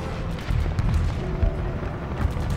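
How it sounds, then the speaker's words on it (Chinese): Intense gunfire from a battle scene in a Chinese anti-Japanese war kung fu film: a continuous, heavy rumble of dense volleys and booms with no clear gaps, loud and close. "可这么激烈的枪声"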